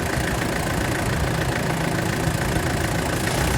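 Mitsubishi Pajero engine idling just after starting, a steady close rumble with a faint knocking tick running through it, continuous and alone with no talk.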